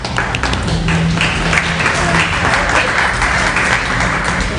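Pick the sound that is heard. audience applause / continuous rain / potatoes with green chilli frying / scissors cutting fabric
audience applause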